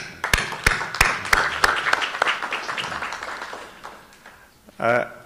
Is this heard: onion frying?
no